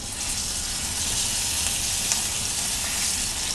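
Liver sears in a hot, salted pan, giving a steady, close sizzle and crackle of frying with no talk.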